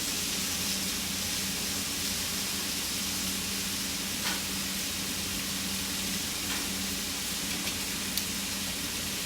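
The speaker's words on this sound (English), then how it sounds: "So I'm going to put my mushrooms right here, and they're going to grill at the same time as the steak." Mushrooms and steak grill side by side in a pan for a panini, giving a steady, close sizzle that runs unbroken and fairly loud, with a few faint clicks and no talk.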